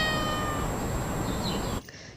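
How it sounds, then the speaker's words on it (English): A cat meows in one drawn-out, clear, fairly close call that stops abruptly near the end, leaving quiet behind it. "The cat says meow."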